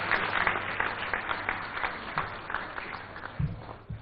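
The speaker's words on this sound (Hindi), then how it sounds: "तालियों के साथ आप जोश बढ़ाइए उषा चौमर जी का" Audience at an awards summit applauding, a moderate burst of many hands clapping that fades slightly over a few seconds, with no speech over it.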